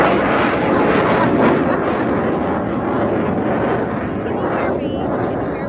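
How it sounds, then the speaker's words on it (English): Navy jets roaring overhead near Keystone and Admiral's Cove, south of Coupeville on Whidbey Island, a loud continuous broadband rumble sustained throughout with a slight swell partway, a voice faintly present underneath. "And that's the sound of our jets going through."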